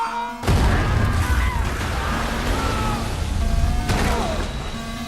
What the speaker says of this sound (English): The massive explosion nearly wiped out my entire squad